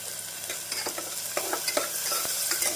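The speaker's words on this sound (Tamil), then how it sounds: "இஞ்சி பூண்டு விழுது சேர்த்து நன்றாக கிளறி விட வேண்டும்" Onions with ginger garlic paste get stirred in a frying pan, a soft sizzle under repeated scraping strokes of a spatula, near and moderately quiet, with no voices.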